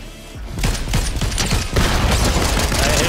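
Rapid automatic gunfire from a weapon in a Fortnite No Build duos match, dense overlapping shots running continuously and loudly for several seconds, with no voices over them.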